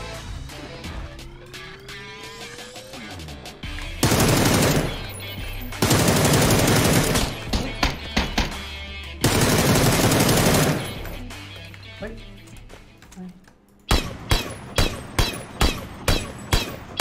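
Video game shooter gunfire: long loud bursts of automatic fire broken by pauses, then a run of sharp, evenly spaced single shots near the end.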